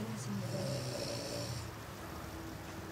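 A person snoring loudly and close, a rough drawn-out snore in the first half that fades into softer breathing.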